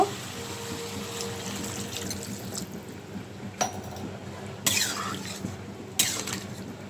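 Water is poured into a cooking pot of sautéed stalks and potatoes for a tengra fish curry, heard as a low background rush with two short, louder splashing pours near the end.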